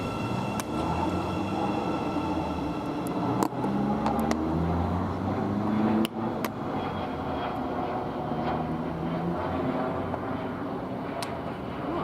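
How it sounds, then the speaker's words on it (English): A Class 717 electric train pulls away from a platform at Stevenage station, giving a steady rolling rumble with low motor tones that rise gradually, heard up close for the whole stretch with a few sharp clanks along the way. "now departing, we've got the service to Horsham"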